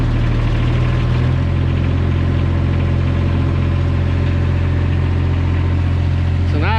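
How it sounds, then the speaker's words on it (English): An excavator engine idles steadily and loudly up close after a fresh start, a continuous deep diesel rumble with vibration that holds even throughout. "Let me get the idle up. This is the idle."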